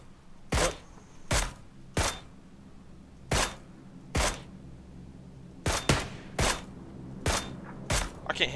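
Gunfire in PUBG, about a dozen sharp single shots spaced irregularly, loud and close, over a low steady background hum with no talk.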